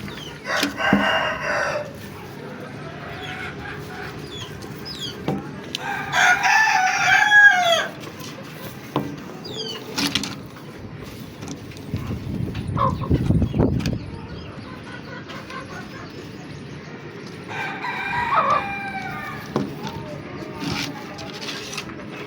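Chickens cluck and crow in bursts over a quiet farmyard background, with a low rumble and occasional voices in between.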